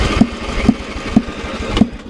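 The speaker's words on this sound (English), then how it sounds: "we're getting some backfire action" A Cub Cadet 80 lawn mower engine runs rough at a near steady idle, broken by four sharp backfire pops spaced roughly half a second apart, close and loud.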